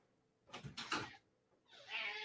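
A cat meows loudly close by, asking to be let in: two or three drawn-out cries in quick succession, then a brief pause and another loud, raspy cry.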